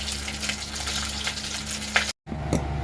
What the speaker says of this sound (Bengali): সেই কারণে কড়া করে ভাজার জন্য এরকম করে দাঁড় করিয়ে দিয়েছি, যাতে নিচেরটা ভাজা হয় ভালো করে